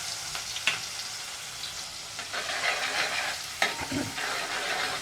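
Chopped green onion and garlic sizzle in hot oil already crackling with cumin, asafoetida and turmeric, with steady frying hiss and occasional scrapes of a spoon stirring the pan close up.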